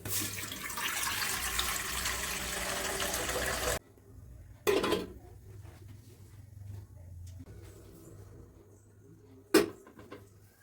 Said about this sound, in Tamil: இட்லி சட்டியை வச்சுக்கிடுறேன். தண்ணி ஊற்றிக்கிறேன்.